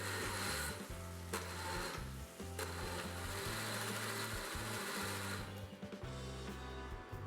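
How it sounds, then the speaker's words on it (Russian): Immersion blender pureeing cooked vegetables for pumpkin soup in a pot, a steady close motor whir with a few brief dips and surges as the blade moves through the mix, with no voices. "Овощи готовы, выключаем огонь и перебиваем блендером в пюре."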